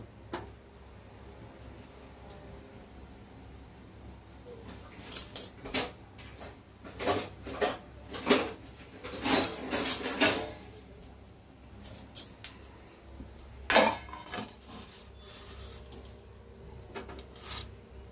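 Plates and dishes handled in a home kitchen while making glass crystal jelly, giving scattered clinks and clatters at mid-distance, loudest in clustered bursts near the middle and one sharp knock toward the end, with no talk.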